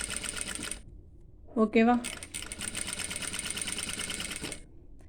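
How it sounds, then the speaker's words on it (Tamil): A pedal-operated sewing machine runs steadily as it stitches along a fabric edge, a close, even mechanical whir broken by a short pause where a voice speaks briefly. "பொறுமையாக பெடல் போட்டு கரெக்டாக அந்த எட்ஜஸில் தான் தையல் போடணும்."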